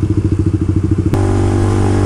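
Kawasaki Ninja 150RR two-stroke motorcycle engine, close and loud, with a choppy pulsing idle that suddenly rises into a steady, higher buzzing drone.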